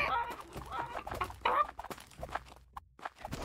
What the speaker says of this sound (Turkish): herkes tavukları bir salsın sağa sola